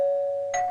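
A doorbell chime in a television advert for a Mr. Sparky Wi-Fi doorbell camera: one sustained, clear electronic tone followed by a brighter second note near the end, loud and alone with no talk.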